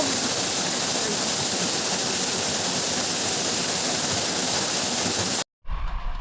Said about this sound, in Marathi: हा कोसळणारा वरचा धबधबा